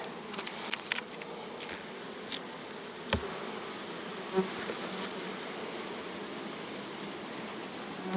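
Dark Polissian honey bees in a hive, with a dense, steady buzzing drone throughout and a few louder knocks and movements near the start and middle.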